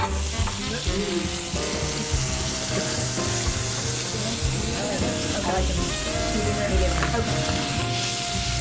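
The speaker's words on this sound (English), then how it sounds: "we're going to cook these steaks to approximately medium rare" Several steaks frying in a pan toward medium rare, a loud continuous sizzle and crackle close by, with people's voices murmuring underneath.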